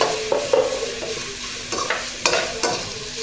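Peanuts stirred and lightly sautéed in a pan for a ragi idiyappam dish, a spoon scraping in several distinct strokes over a soft steady sizzle, close and fairly loud, no talking.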